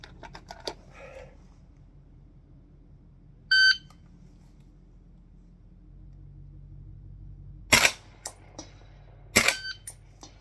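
A shot timer beeps once during a shooting drill, then two sharp, loud gunshots crack a couple of seconds apart, with a few faint clicks around them and quiet background otherwise.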